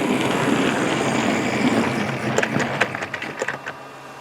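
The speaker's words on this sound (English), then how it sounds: "In runs the branch train into the junction." Branch train rolling into the junction on a model railway layout, a steady rumbling run that breaks into a series of clicking and clattering wheel knocks as it slows.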